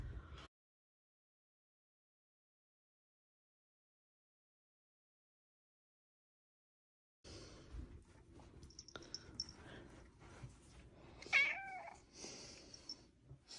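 A single Ragdoll cat meow rises and falls near the end, after a long stretch of silence, with faint household rustling around it.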